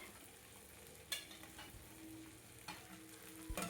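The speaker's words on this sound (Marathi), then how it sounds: "भेंडी ही 1 ते 2 मिनिट आपल्याला शिजवून घ्यायची आहे या तेलामध्ये" Okra frying in oil gives a soft, quiet sizzle with a few sharp stirring clicks and scrapes spaced apart.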